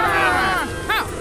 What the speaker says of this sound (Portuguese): a multidão gritava cada vez mais alto